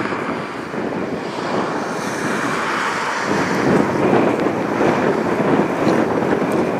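Strong wind blows outdoors on the Great Lakes shore, roaring and buffeting the microphone in a continuous, loud rush that swells in the second half.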